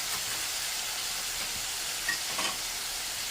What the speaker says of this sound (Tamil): இப்போ எல்லாத்தையும் போட்டு நல்லா வதக்கியாச்சு இப்போ தக்காளி மட்டும் உப்பும் போட்டுட்டேன்